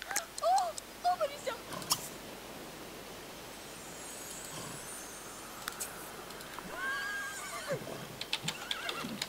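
A horse whinnies in The Sims 3 Into the Future near the start amid faint clopping and rustling, with another high neigh later, all fairly quiet, with some speech in the background.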